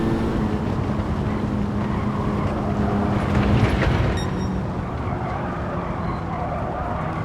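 Race car engine held in 4th gear in Gran Turismo 7, a steady loud drone with a brief swell near the middle, continuous and close with no break.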